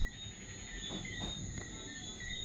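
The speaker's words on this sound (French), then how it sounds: "Le bruit que vous entendez là, ce sont des grenouilles." A steady, high-pitched chorus of frogs croaking at night in Martinique, continuous and moderately faint, with no voices.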